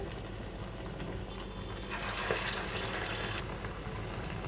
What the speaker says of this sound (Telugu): ఇక్కడ ఆయిల్ అంతా చక్కగా కాగిన తర్వాతే ఇందులోకి వేయటం వల్ల మనకి గారె వేసిన వెంటనే పైకి వచ్చేస్తుంది